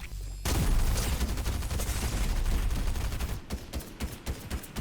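Sustained, dense automatic gunfire in the Fortnite video game, loud and continuous for several seconds, then breaking into separate bursts and single shots toward the end, with no talking.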